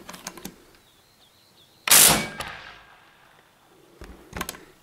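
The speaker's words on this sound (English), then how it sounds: "shooting a 215 grain spear point out of the 58 caliber Element Max" A single loud, sharp shot rings out from a .58 caliber Element Max air rifle firing a 215 grain spear point, followed by a decaying echo, with faint clicks and handling noises before and after.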